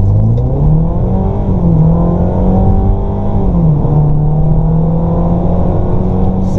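A tuned Ford Maverick BTS 330 pickup with 330 hp accelerates hard, its engine note climbing steadily with a gear change partway through, loud and continuous with no talk.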